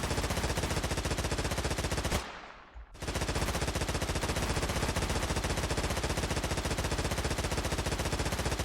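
Continuous rapid automatic gunfire in the Stormworks video game, a dense loud burst that cuts out briefly and then resumes just as fast, with no talking.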